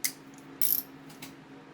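A manual ratchet wrench turns a 10 mm carburetor bolt on a surging inverter generator, giving a few close, quiet clicks and a short burst of ratcheting, with no talk.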